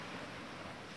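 Ocean waves at a beach wash in a steady, broad roar, with wind buffeting the microphone and no clear break in the surf.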